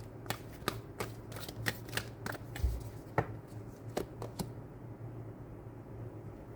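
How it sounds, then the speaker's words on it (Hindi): Tarot cards being shuffled by hand during a reading, a run of quick riffling snaps and taps in an irregular rhythm, close and soft, fading to quiet in the last two seconds with no talking. "I want to pull one more card."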